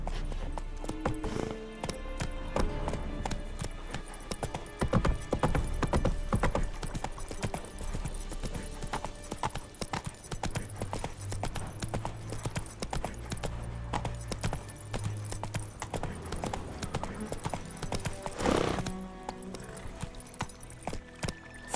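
Geralt's horse Roach galloping in The Witcher 3, steady loud clip-clop of hooves with harness jingle, briefly joined by a low engine-like rumble, no talk.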